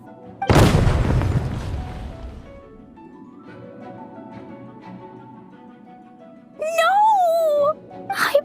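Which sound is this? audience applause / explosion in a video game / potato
explosion in a video game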